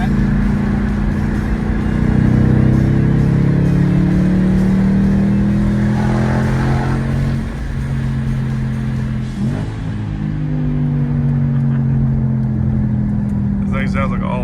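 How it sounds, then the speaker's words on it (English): A 2021 Ford Mustang Mach 1 V8 revs hard while driving, its loud, steady engine roar rising and falling in pitch through gear changes, close and dominant throughout. "This thing sounds like an all-out race car."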